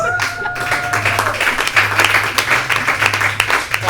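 An audience claps and cheers at a live talk-show taping, steady dense applause close and loud throughout, with a low hum and brief whistling tones at the start.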